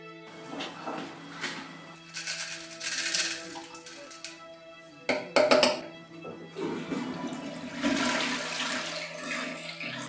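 A toilet flushes loudly nearby, a gushing rush of water that surges, briefly cuts out, then swells again and trails off into refilling, with no voices.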